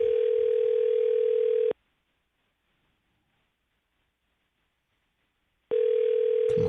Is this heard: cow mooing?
no